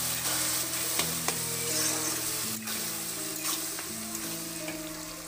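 Tomatoes fry with chopped chillies and turmeric for an egg curry, a steady close sizzle with a few sharp clicks, over a faint steady hum of tones in the background.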